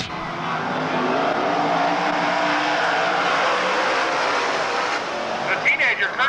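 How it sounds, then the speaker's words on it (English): Sprint cars race around a 1993 West Coast dirt track, a loud sustained roar of engines passing close with a race announcer talking over the top throughout. "McMahon roars up on his bumper, but DeCaris will pull in the victory"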